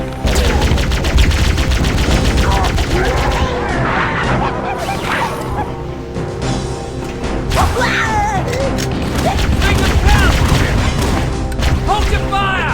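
Bursts of gunfire and crashing impacts from the Halo video game, with a rapid crackling of shots rising and falling across the stretch, loud and dense, while voices talk over the battle.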